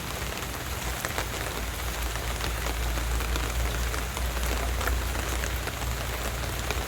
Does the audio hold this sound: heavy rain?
yes